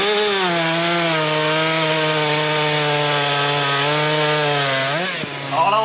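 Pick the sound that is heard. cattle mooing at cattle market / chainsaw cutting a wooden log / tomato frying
chainsaw cutting a wooden log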